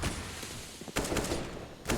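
MAC-10 gunfire in CS:GO, heard as a few short sharp bursts of rapid shots spread through two seconds amid a busy game mix, moderately loud and without talk.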